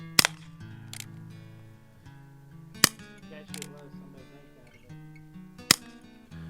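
An Umarex Colt air pistol fires at a can outdoors: three sharp, loud cracks spaced a few seconds apart and one softer shot, over quiet background music.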